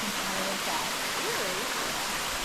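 Waterfall pouring into a rock pool in the Kimberley, a steady broadband rush of falling water with no pause, while faint voice-like tones drift through underneath.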